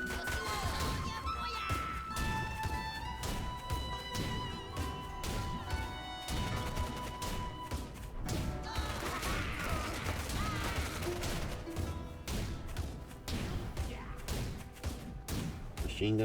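Rapid bursts of machine gun fire in a real-time strategy duel game ring out amid dense battle clatter, crashes and explosions, with commentary running over the continuous noise.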